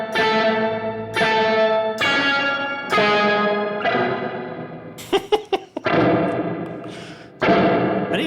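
Electric guitar chords strummed through an octave pedal with the low octave turned up, in sustained, buzzy bursts with a thick low doubled tone, broken by a few muted string thumps in the middle.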